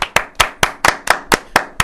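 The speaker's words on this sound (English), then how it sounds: "Everybody clap your hands." Crisp hand claps land in a quick, even rhythm, about eight loud sharp claps in under two seconds, close up and with no talking, from a group dancing to a line-dance call at a lively gathering.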